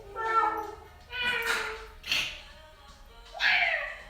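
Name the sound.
people imitating a cat meow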